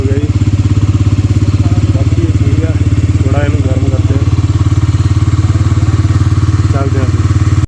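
A motorcycle engine, started by its self-starter on a morning ride through Spiti, idles in a steady, loud, close, even throb, with voices talking faintly over it.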